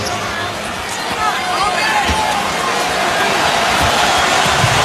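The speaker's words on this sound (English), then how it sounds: "Crowd trying to get fired up again." Arena crowd at Game 4 of the 2008 NBA Finals between the Celtics and Lakers, a dense roar of voices and cheering that swells gradually, with sneaker squeaks and court sounds mixed in.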